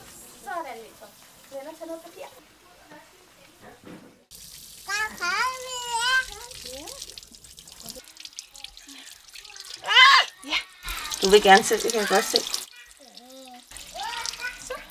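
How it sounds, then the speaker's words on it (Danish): A tap runs as young children wash their hands at a sink, a faint steady stream beneath children's and adults' voices that come and go throughout. "Kan I slukke for vandet?"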